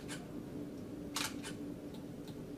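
Several quiet mechanical shutter clicks from a Panasonic Lumix DMC-G1 camera, spaced irregularly over a faint background hiss.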